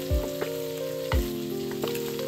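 An egg fries in a pan while fried Lee Fah mee with pork mince is being cooked. It makes a steady close sizzle, broken by a few low thumps as the egg is stirred around, with a faint constant hum underneath and no talking.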